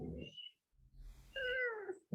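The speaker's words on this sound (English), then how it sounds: "Stray kitten." A stray kitten meows twice, a short high cry followed by a longer, louder wavering meow, close by with no talking over it.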